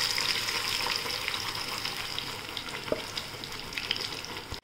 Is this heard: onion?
yes